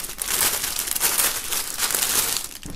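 Crisp plastic foil crinkles loudly and continuously close up as a beanie is unwrapped from its wrapping during an unboxing, no one speaking.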